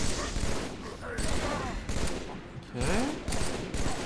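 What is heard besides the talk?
gunfire, from video game Halo 3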